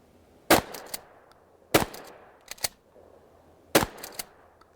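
Combat shotgun fired during a three-target drill, with several sharp, loud blasts spread across the stretch, some in quick pairs with metallic action noise between them and no speech.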